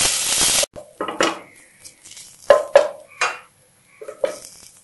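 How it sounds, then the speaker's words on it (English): Onion paste stir-fried in hot oil in a pan for a pomfret dish with chilli and coriander: a loud sizzling hiss at first, then a run of close, separate clinks and scrapes of a utensil against the pan. "Now add the onion paste. Stir fry for 2 minutes."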